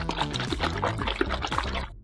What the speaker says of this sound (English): all Kate has to do is pour in 4 ounces of baby formula